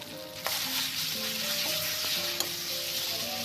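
Chopped shallots sizzle and fry in hot oil in a pan for cooked Northern Thai larb, a steady close crackle with a couple of sharp clinks of a utensil against the pan.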